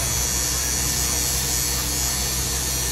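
Electric hair clippers buzz steadily and continuously at close range, a constant motor hum with no pauses, the tool sounding different than it usually does.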